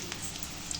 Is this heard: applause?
no